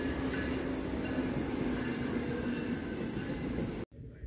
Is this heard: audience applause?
no